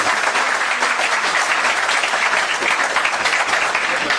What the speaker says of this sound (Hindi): कृपया जोरदार तालियों से अभिनंदन करें।